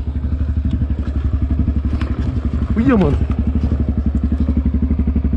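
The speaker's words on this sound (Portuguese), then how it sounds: "Até desligar a moto aqui," A motorcycle engine idles steadily and close by, a fast regular low pulse that runs through the whole stretch, with a voice talking briefly over it partway through.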